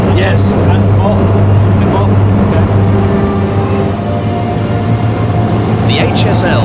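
Throttled-up diesel engines of more than 1,200 horsepower drive a 1940s high speed launch fast across the water, loud and near, a deep sustained drone over hissing spray with no pauses.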